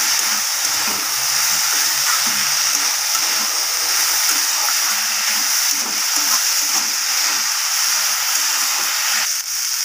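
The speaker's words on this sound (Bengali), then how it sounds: "দিয়ে আবারও ভালোভাবে শাকের সাথে আমি নাড়াচাড়া করে নেব।" Red amaranth greens are stirred in a pan with fried poppy seeds and peanuts, giving a steady, loud frying hiss throughout with soft scraping stir sounds underneath.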